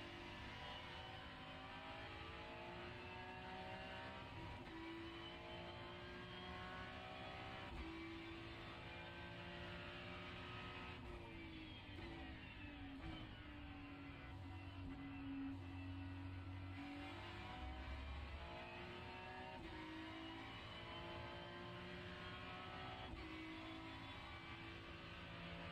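A Ferrari race car engine in the iRacing sim runs steadily for the whole stretch, its pitch climbing and falling through gear changes with tire squeal and skids mixed in, loud and continuous with no talking.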